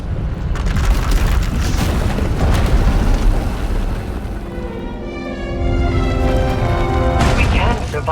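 A massive eruption of uncontrolled Force power tears through an asylum in Star Wars: The Old Republic, rendered as a sustained booming, rumbling blast that swells and roils for several seconds, with heavy low-end roar and a dramatic musical swell rising beneath it.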